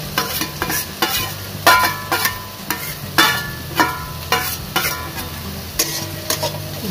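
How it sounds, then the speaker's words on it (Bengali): Chopped cabbage, carrot and beans for a momo filling being stirred in a pan, with a rhythmic series of scraping spatula strokes over a light, continuous sizzle, close and clear with no talking. "জাস্ট আমরা একটু নাড়িয়ে দেবো এইভাবে"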